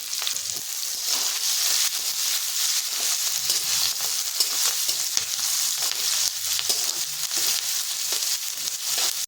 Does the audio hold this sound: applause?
no